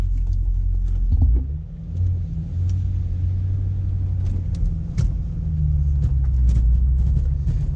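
Chevrolet Corvette C6 Z06 engine rumbling loud and close as the car pulls away, a steady deep low drone with slight swells in revs and no talking.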